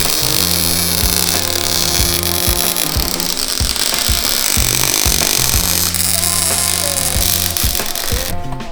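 Someone is welding a seat bracket onto a Nissan 350Z in a workshop, producing a loud, continuous buzzing hum that starts and stops in bursts, with harsh crackle layered over it.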